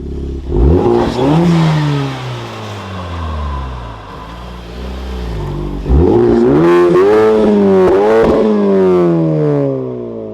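A Honda Civic Type-R with an aftermarket full exhaust revs hard above 3,000 RPM in two loud bursts, the engine note climbing and falling, with a lull between the runs.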